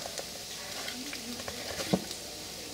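Butter sizzles softly in a pot, a faint crackling hiss with scattered small pops and a brief clatter near the end.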